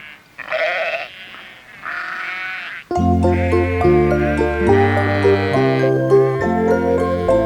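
Sheep bleat in a children's farm song, a few wavering cries up close before a bright keyboard and bass backing enters and carries on steadily.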